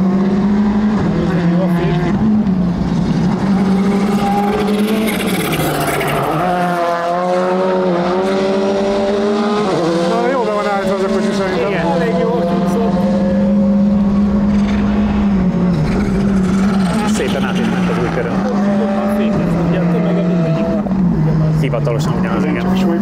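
Loud, sustained engine drone inside a car driven fast on a track, either a Volkswagen Polo R5 or a Porsche 911 Turbo S, with steady pitch shifts as it accelerates and brakes, and occupants talking over it throughout.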